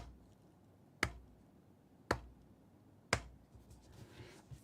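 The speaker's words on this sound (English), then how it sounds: "Slow clap." Three slow, evenly spaced sharp claps, about one second apart, ring out alone against a quiet background.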